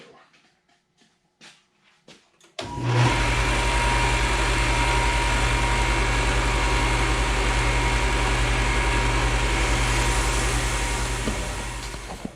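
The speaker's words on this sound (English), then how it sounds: "Okay, to the belt sander." A belt sander shaping a rocket fin can starts up after a few quiet taps and runs steadily for about ten seconds, a loud, continuous low drone and grind close by.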